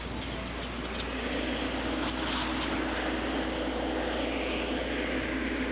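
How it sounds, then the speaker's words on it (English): A pneumatic compressor runs steadily in the background, a continuous low drone with a strong hum and even broadband hiss, unchanging over the whole stretch. "Somebody's also running a pneumatic compressor in the background"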